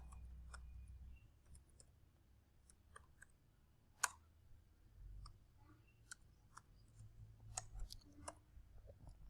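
Text being typed on a keyboard, scattered light clicks and taps at an irregular pace, faint and close in a quiet room with a low hum underneath.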